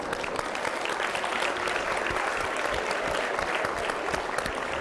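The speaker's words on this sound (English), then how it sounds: "Please join me in applauding them." Audience applauding students, with steady, sustained clapping from a large crowd filling the whole stretch at an even level.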